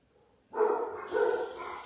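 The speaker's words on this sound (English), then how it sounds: "There's a plane flying overhead, so that of course gets the dogs going." Dogs bark in a backyard garden as a plane passes overhead, a couple of loud, close barks that start abruptly after a quiet moment.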